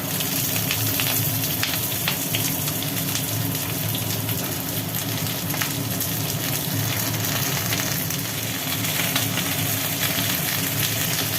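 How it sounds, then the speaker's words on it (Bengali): Sliced pointed gourd fries in hot oil with a loud, continuous crackling sizzle that holds steady from start to finish, close up and with no voices. "তেলটা গরম হয়ে গেছে এবার দিয়ে দেওয়া হলো কেটে রাখা পটল"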